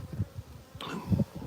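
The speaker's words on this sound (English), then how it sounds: "So lots of bees on the lid" Honeybees buzz at an opened hive with many bees on the lid, a close, fluttering drone with a brief sharper burst midway.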